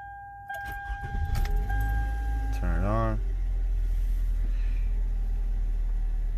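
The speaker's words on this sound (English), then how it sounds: "So I'm gonna turn the car off, and turn it back on." A 2011 Toyota Camry being switched off and restarted after an oil change: a chime and dashboard tones, then a starter crank catching into a steady low engine idle that continues, with a brief jangle of keys and a voice speaking over it.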